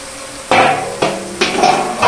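Mutton being added and stirred in a hot pan for mutton curry, sharp clanks of a spoon against the pan repeated several times over a loud, close sizzle.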